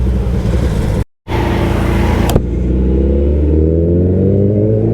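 A Suzuki Hayabusa motorcycle engine roars loudly and steadily while being ridden, with a brief cut, a sharp click, then a rising drone as it pulls away, and no talk.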